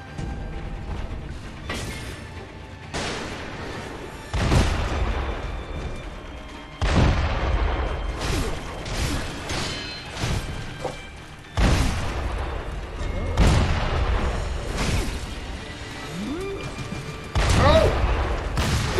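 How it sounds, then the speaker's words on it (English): Gunfire and heavy booming blasts from Sekiro: Shadows Die Twice erupt in repeated loud bursts separated by brief lulls, with occasional mechanical clanks and a voice speaking between them. "Where'd they get these guns from?"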